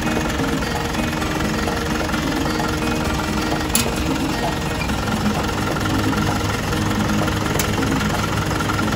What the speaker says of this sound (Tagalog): Ginamit natin yung lithium battery natin para umandar yung jeep natin.